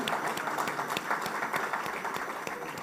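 Audience applause at an international trade seminar, a moderate crowd clapping steadily with dense overlapping claps that fade slightly toward the end.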